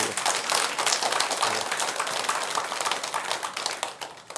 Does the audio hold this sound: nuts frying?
no